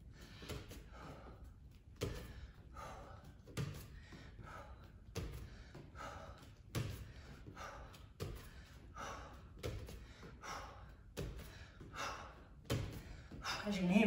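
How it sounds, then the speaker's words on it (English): Heavy, rhythmic breathing during a jump-switch workout set, with loud repeated gasps and exhales close to the mic, steady throughout and building toward the end. "As you can hear, my breathing's getting heavier all the time."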